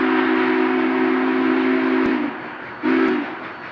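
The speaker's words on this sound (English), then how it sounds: "ride on a passenger train pulled by the ever-impressive steam locomotive number 844" Union Pacific 844, a Northern-type steam locomotive, sounds a loud, sustained whistle on an excursion run, holding a long blast of about two seconds, then a shorter second toot over steady rumbling train noise, with no talk.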